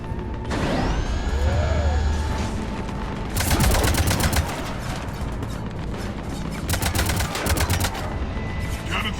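Heavy automatic gunfire from a sci-fi shooter, Mass Effect 3, erupting in dense loud bursts with mechanical clanks and whining tones between volleys, alone without talk.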